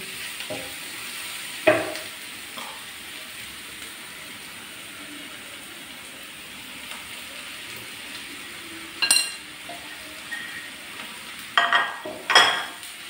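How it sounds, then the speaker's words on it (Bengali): Onions and chicken stirred in a frying pan, a steady soft sizzle with a few sharp scraping clatters of the spatula near the middle and end. "এখন আমি ভালো করে পেঁয়াজগুলো নাড়িয়ে চেড়ে নেব, তারপরে চিকেনগুলো উঠিয়ে দেবো একটু হয়ে গেলে।"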